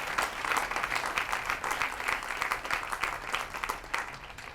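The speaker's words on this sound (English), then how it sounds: "Let's give her a round of applause." Audience applause after an on-stage interview, a dense, steady wash of many hands clapping at a fairly close, even loudness, with no voices over it.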